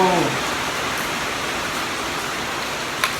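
Steady rain falling outdoors in rural Thailand, a dense, even hiss that fills the clip from start to finish. A faint tone sounds at the very beginning, and one small patter stands out near the end.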